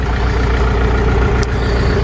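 A Scout 404 tractor pulling an Unia 2/30 plow through garden soil gives off a loud, steady low engine drone that holds an even pitch throughout, close up and with no voices.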